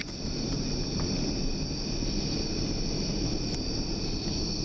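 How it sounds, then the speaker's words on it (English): Crickets chirp at night near an old bridge, a faint, continuous high trill held steady over a soft background hiss. "you can hear the crickets out there"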